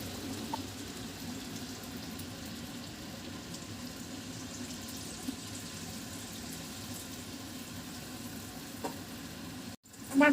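Hot water goes into a pan of fish curry that has been slow-fried with spices, producing a sustained low sizzle and bubbling that stays fairly quiet and even, with a brief break and a louder burst at the very end.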